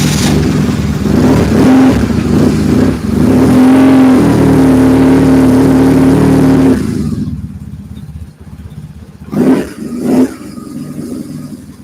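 A shaft-drive motorbike engine revs loud and close in a throaty, droning burst for several seconds, then drops away to idle with a couple of short blips; nobody speaks.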